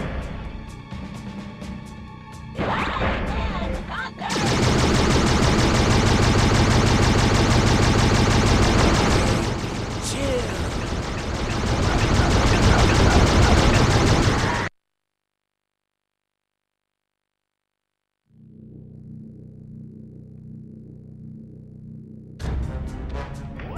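Turrets fire in the Ben 10 Ultimate Alien Cosmic Destruction video game, with loud sustained bursts of rapid gunfire and crashing impacts, then a sudden silence before quieter game sounds return.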